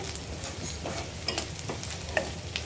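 Onions and curry leaves fry in hot oil in a pan for dal palak, a steady close sizzle broken by soft scrapes and clinks of a spoon stirring, with no voices.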